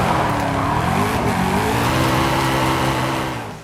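Stock Shelby in Forza Horizon 5, a loud revving engine close by over squealing, skidding tires, held steady and then easing off at the end.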